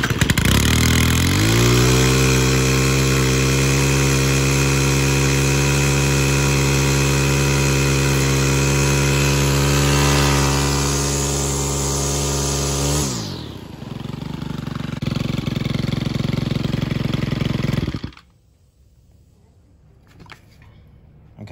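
A Stihl FS111 string trimmer engine catches after pulls on the starter and runs steadily for about eleven seconds, loud and close, then drops to a lower idle before cutting out; no talk over it.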